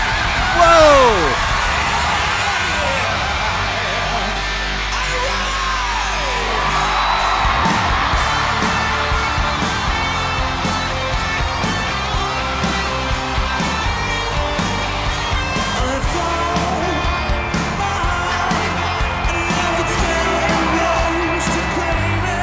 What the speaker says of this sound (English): It's hard to hear them with all the crowd